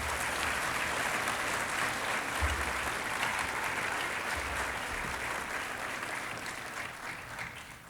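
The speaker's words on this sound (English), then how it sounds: "A round of applause for his family, please." Guests at a military battalion change-of-responsibility ceremony give a sustained round of applause, a thick, steady wall of clapping from a large crowd lasting the whole stretch with only a slight easing at the end.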